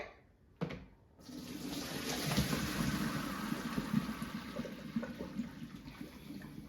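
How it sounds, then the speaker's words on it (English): Pasta water pours out of a dish in a steady gushing stream, splashing into a sink after a brief clatter, continuing without pause until the end. "So just take off the lid and drain water."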